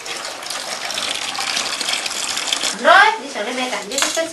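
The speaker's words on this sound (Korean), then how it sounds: "엄마는 피곤함을 달랠 틈도 없이 서둘러 따뜻한 물부터 준비합니다" Warm water is poured and splashed into a basin, gushing close by with clinks of a metal pot and a short burst of louder splashing near the end.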